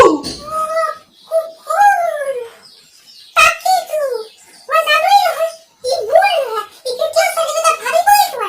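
A dog whines and howls in rising and falling, drawn-out cries, repeated in several bursts with short pauses, heard close in a home setting in an Assamese comedy short film.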